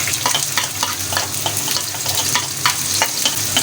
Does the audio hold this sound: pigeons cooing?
no